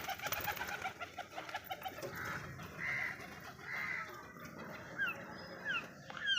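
Outdoor birdsong with scattered calls and chirps over a steady background, soft cooing notes of pigeons mixed in, moderately distant.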